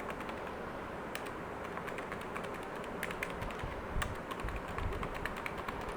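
Someone types on a computer keyboard, a quiet run of irregular clicking keystrokes against a low background rumble, close and continuous for several seconds with no voice.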